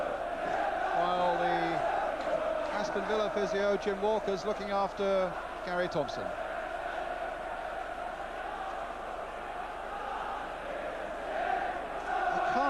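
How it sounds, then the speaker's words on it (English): Liverpool supporters chant in good voice at a packed Villa Park during an Aston Villa v Liverpool FA Cup fourth-round tie, a loud, continuous roar of crowd singing from close below that runs under a commentator's voice throughout. "all the Liverpool fans are right underneath us, and they're all in good voice"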